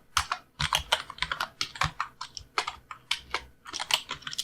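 A paragraph is typed on a computer keyboard during an HTML coding lesson: rapid, uneven bursts of crisp key clicks, close and loud, with brief pauses between words.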